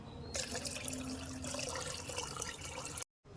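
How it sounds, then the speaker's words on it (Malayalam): Water poured into a pot of pepper rasam, a broad, steady splashing pour that runs evenly for about three seconds, close and moderately loud, then cuts off abruptly. "വെള്ളവും കൂടെ ഒഴിക്കാം."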